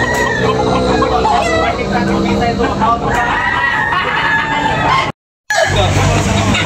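Roosters crow and hens cluck loudly over a busy background of voices and noise at a gamecock market in Tabunok, Talisay, Cebu, with a brief cut to silence near the end.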